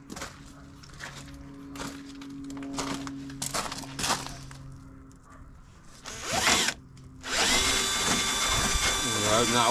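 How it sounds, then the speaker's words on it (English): Power drill with a bigger bit boring into a Greddy Gracer style fibreglass front bumper on a 1992 Nissan 300ZX Z32, short stop-start whirring bursts, then a longer loud sustained run; a person talks between bursts. "we're going to change for a bigger drill bit"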